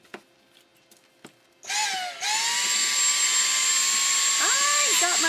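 After a few faint clicks, a Dyson Animal cordless vacuum cleaner with a freshly changed battery whirs up sharply to a loud, steady high-pitched motor whine that holds on close by, with a slight pitch wobble near the end.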